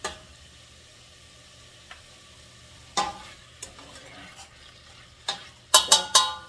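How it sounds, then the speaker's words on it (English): Meat stirred in a frying pan, a few scraping strokes and clatters of the utensil against the pan over a soft background sizzle, growing louder and quicker toward the end. "Get it stirred around a little bit"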